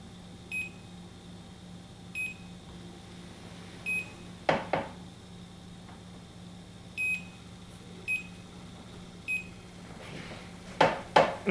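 Bacharach Informant 2 refrigerant leak detector, checking R410a, emitting short high electronic beeps at roughly even intervals over a steady background hum, with a few faint clicks and handling knocks near the end.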